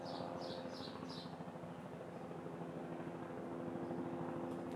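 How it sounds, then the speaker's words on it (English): A helicopter drones in the distance with a faint rhythmic thumping hum, while a few bird chirps sound early on. "You can hear the helicopter in the back."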